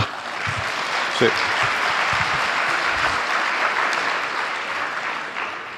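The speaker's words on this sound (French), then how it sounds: "je vous remercie de vos applaudissements" Sustained applause from a sizable audience fills the room, with a few low voices or thumps mixed in near the start.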